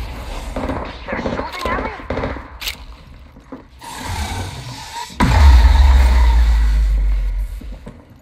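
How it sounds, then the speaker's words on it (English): Gunfire in the battle royale game Apex Legends: a few sharp shots early, then a heavy sustained burst near the end, all mixed with a player's voice talking. "They're shooting at me."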